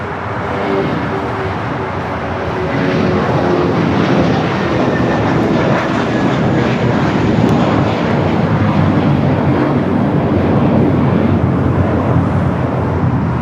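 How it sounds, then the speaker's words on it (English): An American Airlines Airbus A321 in PSA retro livery takes off from LAX with a loud, steady jet roar that builds after a couple of seconds and stays strong and close throughout, with no talking. "That was American Airlines 2789 off to Phoenix on the A321 in the PSA Retro livery"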